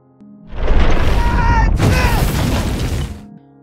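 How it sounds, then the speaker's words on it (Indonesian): A huge, roaring explosion of an impact on a planet bursts in, swells with crackling debris, then a second blast surges before the rumble fades away. "menabrak planet tersebut yang menyebabkan ledakan besar"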